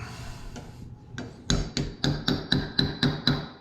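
A hammer taps while a front door deadbolt lock is fitted, starting with a few soft knocks and then settling into a steady series of sharp, evenly spaced strikes nearby.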